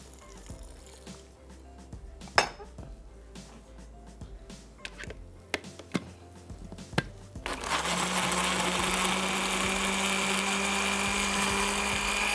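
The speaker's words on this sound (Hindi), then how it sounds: "आधा कप पानी, 1 अदद प्याज जूसर ब्लेंडर में खूब अच्छी तरीके से फेंटना।" An electric juicer blender whirring steadily as it purees half a cup of water with a raw onion, starting after several clicks and clatters and then running loud and continuous to the end.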